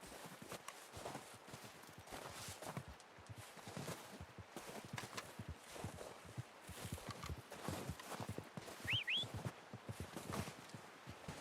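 Quiet, steady clip-clop of horse hooves walking along in the video game Red Dead Redemption 2, with a faint high chirp near the end.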